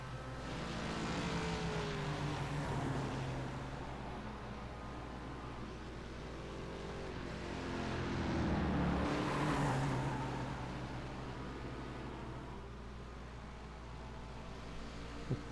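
Several race cars in a production car challenge racing video game drone steadily and loudly throughout, with engine pitch rising and swelling around the middle as cars pass, over constant wideband road noise.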